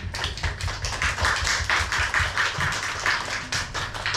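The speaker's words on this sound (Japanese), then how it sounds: "また拍手お願いします。" A Tokyo audience at a Korean band's live concert in 2020 claps in steady, dense applause. The many claps sound close and continuous and keep going without a pause, with no talking over them.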